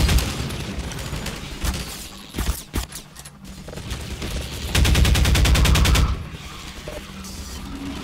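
Half-Life 2 gunfire: scattered sharp shots, then a rapid automatic burst lasting over a second, over a steady droning game background.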